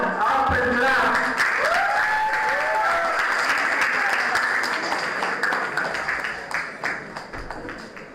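A school-event audience gives loud, sustained applause for a school's delegates standing on stage, starting full and gradually thinning out. An announcer's voice and a few tonal electronic sweeps run over the clapping early on.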